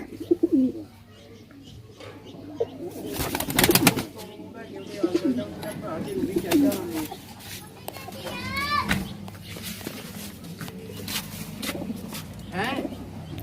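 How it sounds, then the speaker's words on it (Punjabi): Pigeons coo softly at close range, with people talking and children's voices over and around the calls. "ਇਹ ਪਾਰ ਦਾ ਕਬੂਤਰ ਆ"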